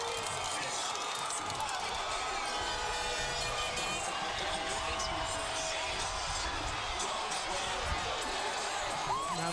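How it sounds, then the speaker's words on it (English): Loud crowd of fans packed along the 2011 Dallas Mavericks victory parade route, a dense continuous roar of cheering and shouting with scattered whistles, steady throughout with voices mixed in. "this is some crowd noise."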